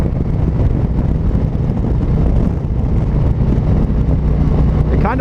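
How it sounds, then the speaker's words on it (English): Steady, loud wind buffeting roars over the low drone of a 2019 Harley-Davidson Road Glide Special on the move, continuous and gusty throughout with no voices. "I'm getting like this wavy, gusty wind"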